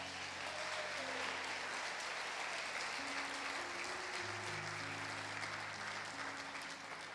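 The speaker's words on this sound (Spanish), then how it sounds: "Dele un aplauso al Señor." A church congregation claps for the Lord during a sermon, a broad, even wash of applause that holds steady throughout, with a sustained tone droning beneath it.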